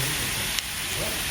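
Onion, peppers and tomatoes fry in a pan with a dense, steady sizzle and hiss, close and continuous, with one brief click partway through.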